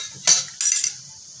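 A metal ladle clinks and scrapes twice against a pan while spices are stirred into hot oil for a chicken thali, two short close metallic taps with quiet sizzle between.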